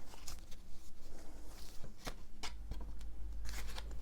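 Tarot oracle cards are shuffled and drawn by hand: crisp riffling flutters and sharp slaps of card stock come in quick irregular bursts, close and moderately loud, with no talk.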